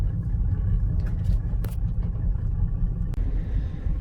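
A Mercedes-Benz E-Class W210 with a 3.2 CDI diesel engine and a knocking motor drives along, giving a continuous low road rumble and engine drone heard from inside, with a few light clicks and taps over it.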